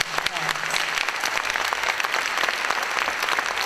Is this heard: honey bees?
no